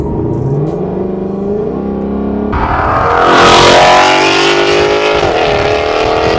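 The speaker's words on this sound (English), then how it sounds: "you just hear all that exhaust" 2015 Ford Mustang 5.0 with a Corsa Xtreme exhaust and tune accelerating hard, the V8 note climbing through the revs, then a gear change and a louder, raspier surge of exhaust roar, close and continuous.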